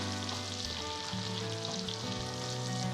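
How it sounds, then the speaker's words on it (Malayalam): Chopped garlic sizzles in melted butter in a pan, a steady close frying hiss running unbroken for the full stretch with no voices over it. "ഷോപ്പ് ചെയ്ത് വെച്ചിരിക്കുന്ന ഗാർലിക്ക് ഇട്ട് കൊടുക്കുക ഒരു ശരിക്കൊന്ന് ഇളക്കി കൊടുക്കുക"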